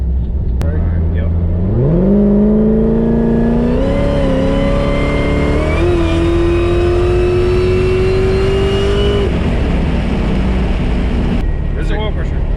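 A car with a stage 4 transmission and Circle D converter revs hard through a wide open throttle pull, its engine note climbing loudly in pitch with brief steps at gear changes before dropping off, over continuous road rumble.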